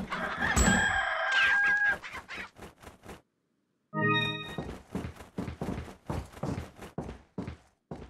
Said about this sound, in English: you can find a chicken and an egg in the oven located in the kitchen